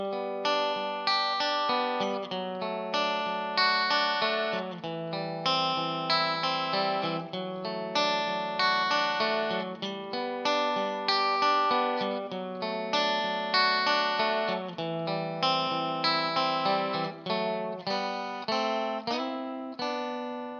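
Electric guitar plays a song's part in harmonized thirds, a steady rhythmic melodic line of ringing double-stops with an effects-processed tone, alone without talking.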